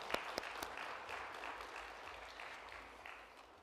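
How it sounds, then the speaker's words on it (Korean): Applause from a church congregation during a worship service, a few sharp claps at the start swelling into a steady wash of clapping that slowly fades, heard alone without talk. "우리 박수로 다시 한번 격려하도록 하겠습니다"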